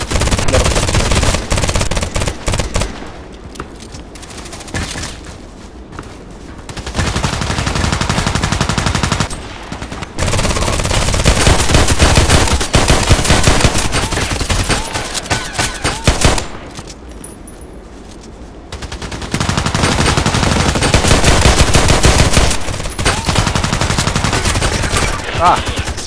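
Loud bursts of gunfire from the shooter Contract Wars on map Evac come in several long sustained stretches, rapid automatic shots separated by quieter gaps.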